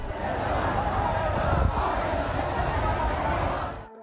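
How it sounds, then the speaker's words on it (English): A large crowd of protesters at a rally in Colombo makes a steady roar of massed voices and babble, loud and sustained before cutting off near the end. "The protest attracted a massive crowd of supporters"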